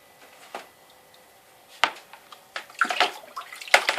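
A kitchen vegetable slicer is dunked and scrubbed in water, soft splashes and sloshing in a few quick bursts that grow busier toward the end, close and fairly quiet, no talking.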